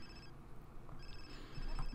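Phone ringing in The Sims 4, a synthetic ringtone chiming in a few steady tonal bursts over a low background of game music and ambience, fairly quiet throughout.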